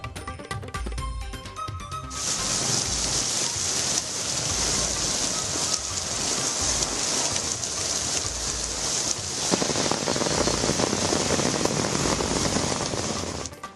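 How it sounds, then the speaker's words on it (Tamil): Widespread rain falling in Chennai and its suburbs, a dense, steady hiss of rainfall with some wind and rumble, loud and continuous after a brief opening of other sound. "சென்னை மற்றும் புறநகர் பகுதிகளில் பல இடங்களில் பரவலாக மழை."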